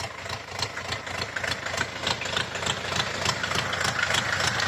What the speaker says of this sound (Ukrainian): Так працює тракторець, рохкає собі потихеньку.